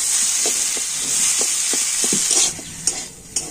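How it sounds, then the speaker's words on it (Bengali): Potato filling stirred and fried in hot oil for a pumpkin-leaf roll, a steady close sizzle with soft spoon scrapes and stirring knocks, thinning out near the end into a couple of light taps. "তো আলুটা তেলের উপরে একটু নাড়াচাড়া করে নিয়ে দিয়ে দেবো বাদাম ভাজা"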